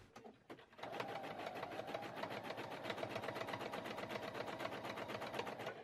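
A sewing machine stitches around a coiled rope, forming the flat base of a rope bowl: a few separate stitches, then a steady, fast, even run of needle strokes, close and clear.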